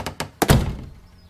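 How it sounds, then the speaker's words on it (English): Two light knocks are followed by two heavy, dull thuds against a door, close and sharp, then quiet. "there was a loud thud on the other side, like someone had run into her door"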